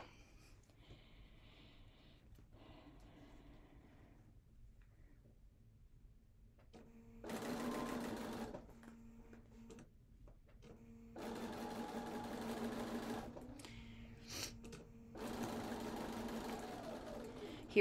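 A sewing machine stitches a quarter inch seam while piecing a Cathedral Windows quilt block, running in three steady bursts of whirring with short pauses between them.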